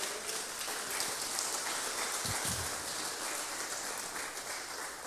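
A church congregation applauds together, a dense steady wash of hand claps filling the room at even loudness throughout, with no one speaking over it.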